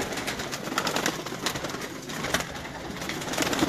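Soft, low cooing of pigeons, repeated throbbing calls over a steady background rustle, fairly close and moderately quiet.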